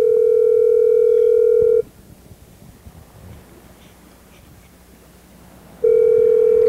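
Phone call ringing out unanswered, heard from aboard a boat on a day out: two loud, steady ring tones, one about two seconds long at the start and another starting near the end, separated by a quiet gap of faint wind-like background.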